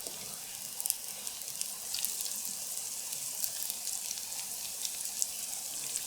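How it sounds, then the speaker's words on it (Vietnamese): Bánh xèo, a Vietnamese crispy pancake, frying in oil in a pan, with a steady close crackling sizzle and scattered sharp pops throughout, no voices. "Bí quyết để chiên giòn là mình cho một ít dầu ăn vào phần rìa xung quanh bánh khi chiên."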